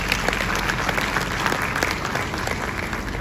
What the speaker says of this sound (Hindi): सिंह साहब के लिए एक बार जोरदार तालियां हो सकती।